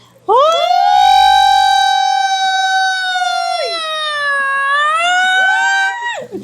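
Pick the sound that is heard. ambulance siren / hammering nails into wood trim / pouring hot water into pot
ambulance siren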